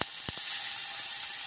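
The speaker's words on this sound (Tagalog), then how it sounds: "Lagay lang tayo ng konting mantika dito. Then, sunod natin yung potato." Potato pieces fry in a little oil in a pan for ginisang giniling, giving a steady close sizzle with a few soft stirring knocks.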